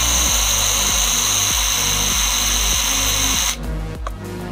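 A ValueMax 12V battery mini chainsaw motor runs with a loud, steady electric whine and a regular pulsing rhythm, then drops to a lower, rougher tone near the end, with no talk over it.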